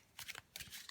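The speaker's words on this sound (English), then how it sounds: "what I do when I'm shuffling is usually I shuffle" A deck of tarot cards is shuffled by hand, giving two quick papery riffling bursts, faint and close, with no voices.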